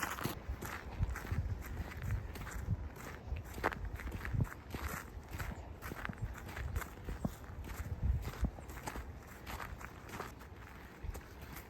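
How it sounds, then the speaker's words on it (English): Footsteps of two people walking along a trail near Kenai beach on the Kenai Peninsula, Alaska, with a steady crunching rhythm close by over outdoor ambience throughout. "my son and I are just taking a little walk down here"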